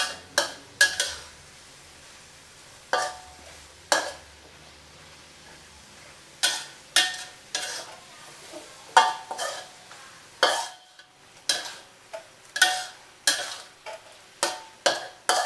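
Bamboo shoots stir-fried with red curry paste and pork belly, with repeated sharp scrapes and clacks of a spatula against the pan in an uneven rhythm over a faint sizzle, loud and close.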